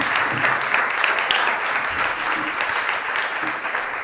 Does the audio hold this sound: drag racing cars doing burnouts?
no